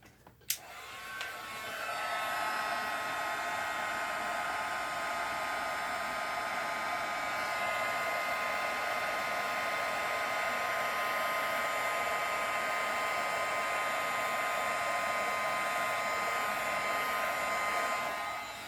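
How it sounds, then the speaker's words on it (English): A handheld heat embossing tool blows hot air over embossing powder on a stamped rose design, kicking on after a faint click and whirring in a steady, fairly quiet blast to the end. "I'm going to use our heat tool one more time."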